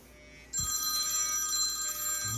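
An electronic telephone bell rings indoors in a house, starting abruptly and holding a steady, bright tone, fairly close, with no one speaking.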